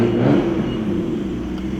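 A Nissan R32 Skyline GT-R with a Greddy full suction kit drones steadily from inside the cabin on a test drive, a loud, even mid-pitched engine note with a slight swell early on, no voices.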